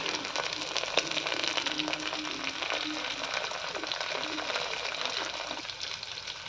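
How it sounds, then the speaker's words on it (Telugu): Sliced onions and green chillies fry in a pan for a taro root pulusu, giving a steady soft sizzle with faint stirring scrapes, close and continuous without speech. "ఉల్లిపాయ, పచ్చిమిర్చి వేపుకున్నాను"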